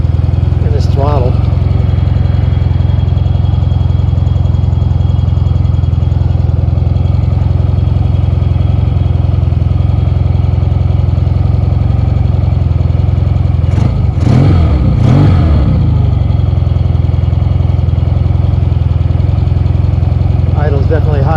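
A Yamaha XS2 motorcycle engine idling after a carburetor adjustment, a loud, steady, close rumble with a brief clattering blip of revs partway through.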